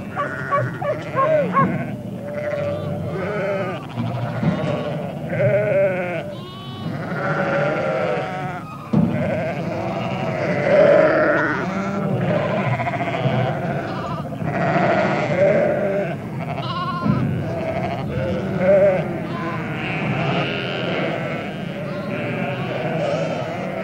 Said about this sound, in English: Once they are in the yard, we draft off the lambs from the ewes.